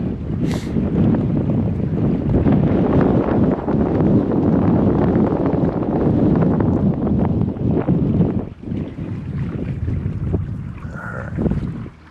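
Steady wind gusting over open water at a fishing spot, a constant broadband roar with microphone buffeting, dipping briefly near the end before picking back up.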